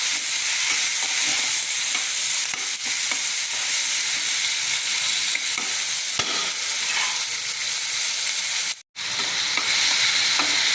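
Onion, tamarind and tomato sautéing in oil in a pan, a loud continuous close sizzle with occasional stirring scrapes, briefly cutting out near the end before resuming.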